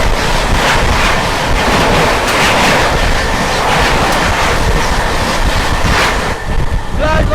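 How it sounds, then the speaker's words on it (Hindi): Tejas Rajdhani Express from Bhubaneswar to New Delhi rushing past on the opposite track, a loud continuous roar with heavy wind buffeting across the microphone, sustained throughout and easing slightly near the end. "सामने से आ रही है 22823 भुवनेश्वर न्यू दिल्ली तेजस राजधानी एक्सप्रेस।"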